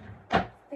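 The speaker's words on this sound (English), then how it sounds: "I'll just go in this drawer." A drawer in a bedroom being tidied is pulled open in one quick scraping slide, a single close thump-like burst in an otherwise quiet room.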